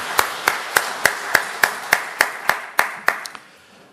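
A church congregation claps together in a steady, rhythmic beat, about a dozen sharp, evenly spaced claps that trail off at the end.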